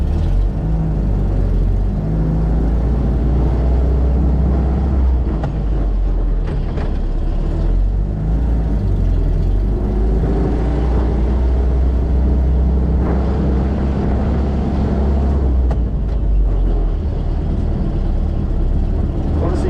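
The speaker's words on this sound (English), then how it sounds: "So I'm in low range and four-wheel drive. Let's go." A 1959 Land Rover Series II driving in low-range four-wheel drive, its engine a loud, continuous deep drone with gearbox whine and rattles throughout, heard from inside the cab.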